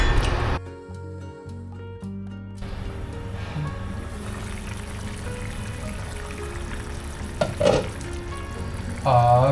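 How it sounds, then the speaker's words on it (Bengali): Paneer pieces go into hot water heated on an induction hob, giving a soft, steady bubbling hiss with faint splashes and stirring after a short musical opening. "আর এই গরম জলটার মধ্যে আমি এখন পনিরগুলো দিয়ে দেবো।"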